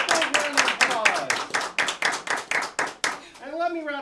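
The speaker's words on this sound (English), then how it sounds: "Give her another big round of applause." Rhythmic clapping for a female performer at a sideshow-style stage show, a steady beat of claps under a voice, ending with drawn-out vocal sounds.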